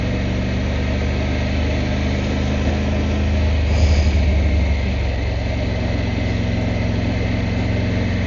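A vehicle riding along twisty country lanes, its engine holding a loud, steady drone under constant wind rush, with a short surge of rougher noise midway before settling back to the same even hum.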